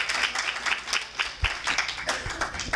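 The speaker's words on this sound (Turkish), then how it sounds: "Komisyon başkanımızı alkışladığınız için teşekkür ediyoruz." Seminar audience in a hall claps for the commission chairman, a loose, uneven patter of hands that rises and falls in rhythm, moderately close and without voices over it.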